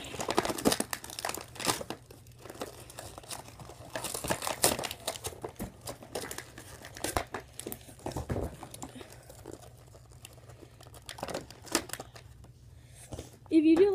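Nerf Rival rounds being torn out of their plastic blister packaging, a close, busy stretch of crinkling and crackling plastic with rustling bursts, under occasional speech.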